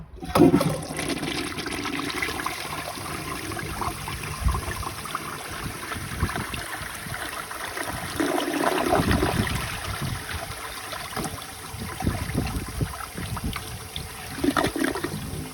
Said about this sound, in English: Alright, here's a normal flush.